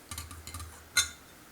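Faint light clinks and ticks of a metal utensil stirring while a beef roast is prepared on an offset smoker, a quick run of small taps followed by one brighter clink, close and quiet, with no talking.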